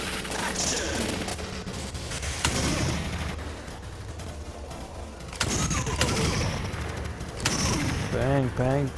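Video game gunfire in a VR arcade game plays as repeated sharp bursts and shots mixed with loud game effects, while a voice talks over the action.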